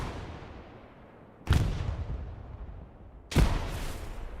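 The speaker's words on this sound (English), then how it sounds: "Big grenade there from Welshie" Two booming grenade blasts in the Hell Let Loose war game, each one a sharp, loud bang followed by a long, rumbling decay, set against a low hum of distant battle.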